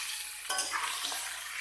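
Broiler chicken meat drops into hot oil in a pan with garlic and ginger, a sudden close sizzle bursting out over a steady frying hiss, with faint stirring scrapes.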